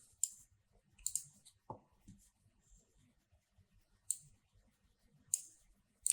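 Computer mouse clicks while working in 3ds Max software, sharp isolated clicks spaced irregularly over several seconds, quiet and close, with no talking.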